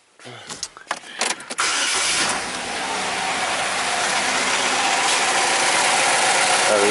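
A 2009 Chevy Cobalt with a P0300 misfire cranks with a few ratcheting starter bursts, then catches and settles into a loud, steady idle that holds to the end.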